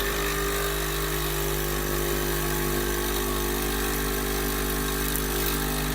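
A Krups Nespresso coffee machine running with water only, no coffee, at work: a steady loud pumping hum and buzz that fills the whole span without pause, with no one talking.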